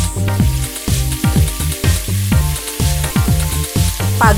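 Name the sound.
potatoes frying in a pan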